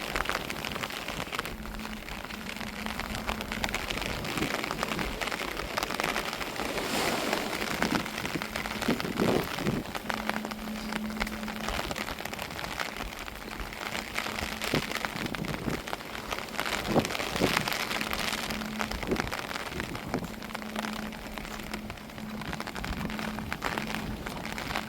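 Monsoon-season rain falls steadily around houses in a residential neighbourhood, a constant close hiss of drops on surfaces that runs unbroken throughout, with a faint intermittent low hum beneath.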